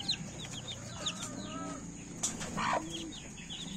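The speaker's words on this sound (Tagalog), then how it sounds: "ito may mga bago tayong pisa na black Parawakan" Newly hatched black Parawakan chicks peep in high chirps while a hen clucks low nearby, with a brief flutter of wings, all fairly quiet with no talk.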